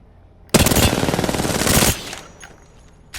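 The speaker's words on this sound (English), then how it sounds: "So I will load the R99 mod for anti-recoil" A close, loud burst of rapid automatic fire from an R99 in the video game Apex Legends, about one and a half seconds of fast shots that trail off into quieter echoes and a brief final crack.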